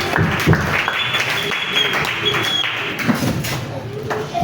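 A church congregation breaks into sustained applause, a steady wash of clapping with a few louder thumps and taps standing out over the roughly four seconds.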